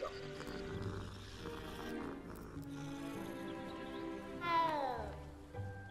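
Cat meows from a Hogwarts Legacy game scene, a drawn-out rising and falling call near the end over busy game music and ambient sound.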